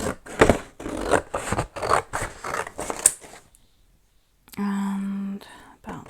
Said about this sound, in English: I've got some watercolour paper here, which I might just cut actually down to a better size